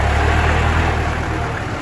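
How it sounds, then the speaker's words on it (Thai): A 2009 Kubota L4508 tractor's four-cylinder, water-cooled 2,197 cc diesel engine runs close by with a steady, dense low rumble and even mechanical clatter, holding constant throughout with no voices. "เครื่องยนต์ 4 สูบนะครับก็ระบายความร้อนด้วยน้ำ"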